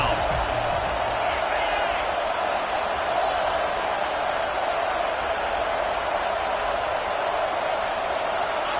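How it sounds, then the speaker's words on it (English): Home crowd in an NCAA college football video game roaring as the defense tries to get off the field on third down, a steady, even wall of cheering noise throughout. "Here comes this home crowd as the defense tries to get off the field on 3rd down."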